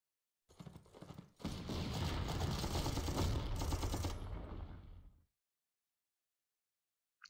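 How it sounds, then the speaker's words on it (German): An artillery strike on a small tank in the war strategy game Panzer Corps: a short crack, then a roaring, rattling barrage of explosions that holds for several seconds before cutting off abruptly into silence. "Artillerieschlag auf seinen kleinen Panzer."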